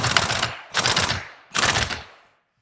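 An air impact gun works on an Eaton Fuller 13-speed truck transmission in three loud, close rattling bursts, each about half a second long and separated by short pauses.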